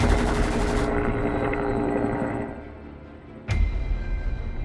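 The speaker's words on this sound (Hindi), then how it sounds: "लेकिन हेलीकॉप्टर से इतनी फायरिंग हो रही थी" Dense, steady rotor-like roar with constant noisy texture fills the scene, punctuated near the end by a sharp burst suggesting gunfire, as a helicopter fires in an action sequence.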